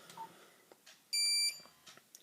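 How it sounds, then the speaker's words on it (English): A Nokia 3310 phone plays a short electronic ringtone: one loud, steady multi-tone bleep of about a third of a second, framed by faint clicks and soft room noise. "There are loads of ringtones on this phone."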